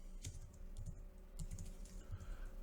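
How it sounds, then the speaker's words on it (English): Steady, close computer keyboard typing as code is entered into a Shopify theme template, a continuous run of light key clicks over a faint background hum. "now I will type color dash"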